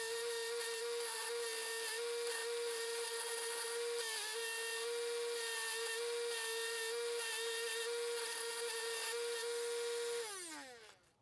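An angle grinder cleans rust and grime off a steel hammerhead in a workshop, giving a loud, steady high-pitched whine that runs nearly unbroken, with one brief dip in load, then spins down at the end.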